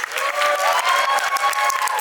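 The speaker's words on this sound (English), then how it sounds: "I just want to give these crew a round of applause" An audience at a dance competition applauds a dance crew with dense, sustained clapping and some cheering, loud and continuous throughout.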